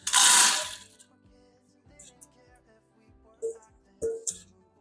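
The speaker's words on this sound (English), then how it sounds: "now I'm just going to throw them in here." Dry rinsed pinto beans pour into a quick cooker in a loud rattling burst, followed by a few sparse clicks and taps of stray beans and the pot.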